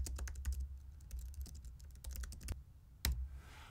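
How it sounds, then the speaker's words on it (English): Quick, light key clicks from a computer keyboard tapping in short irregular bursts, close and quiet, with a louder keystroke near the end. "I'm going to type in the text."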